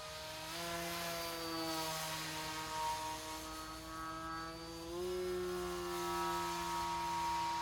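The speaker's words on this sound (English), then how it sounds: "Sounds good, doesn't it, that prop?" The propeller of a Pterosaur 1400 RC park flyer plane drones with a steady, tonal whine, holding a constant pitch that steps up slightly midway, heard alone and continuous throughout.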